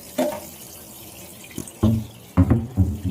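A kitchen sink tap runs in short bursts while plates are washed, with water splashing and clattering in irregular spurts between quieter gaps, no talk.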